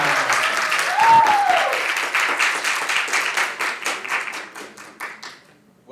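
An audience applauds a speaker walking onto the stage at a talk event, loud steady clapping that thins into sparse individual claps and fades out, with a short whistle early on.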